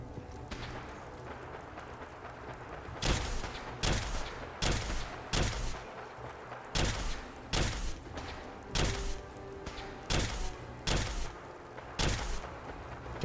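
Bursts of gunfire in Fallout 4, a modded game, come as about ten evenly spaced loud volleys over a steady low background, each a sharp broadband crack with a short decay.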